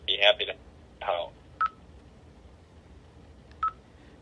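Telephone dialing tones from a phone: two longer dual-tone bursts close together, then two short single beeps spaced apart, clear and near against a quiet background.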